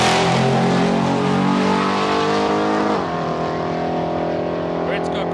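A big block Chevrolet drag car races at Palmyra Raceway, its engine snarling loud and close with strong harmonic tones that shift sharply partway through, then fading to a lower drone. A commentator talks over it.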